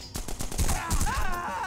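Rapid automatic gunfire from a gun in The Punisher video game, a dense burst of repeated shots close and loud, with a groaning voice sound mixed in near the end.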